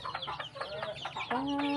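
A cluster of short, choppy chicken clucks repeats in close succession, ending in a sustained higher call, all fairly near and without speech.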